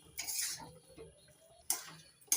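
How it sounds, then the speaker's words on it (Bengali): A metal spoon scrapes and clinks against a cooking pan while stirring sugar into a vegetarian potol paneer dish, with a few light clatters and scraping strokes at a close, quiet level. "নাড়াচাড়া করে ভালো করে মিশিয়ে নিচ্ছি।"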